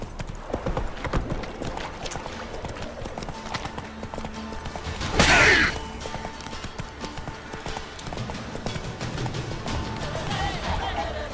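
Hooves of Roach, a horse in The Witcher 3, clip-clop in a steady rhythm through the whole stretch, with a brief loud crash-like burst near the middle cutting over the footfalls.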